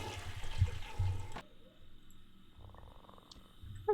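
A toilet flushing in The Sims life-simulation game, a loud rushing swirl of water for just over a second that drops off abruptly, followed by quieter game ambience and faint chimes.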